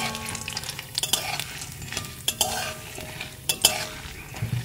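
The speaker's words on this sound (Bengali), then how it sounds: "এবার এর মধ্যে একটা শুকনো লঙ্কা দিয়ে দিচ্ছি, লঙ্কাটাও ভালো করে ভেজে নেব।" Dried red chilli frying in hot oil, a soft continuous sizzle broken by sharp clinks and scrapes of a spoon stirring in the pan, close and moderately loud with no talk.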